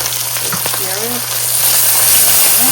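Ginger garlic paste sizzling loudly in a pan as it is stirred, a steady bright hiss filling the whole stretch with faint scraping beneath.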